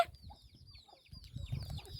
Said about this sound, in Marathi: ही कोंबडी बघा कशी पिते बघा सरबत ब्रुनोला दिलेला सरबत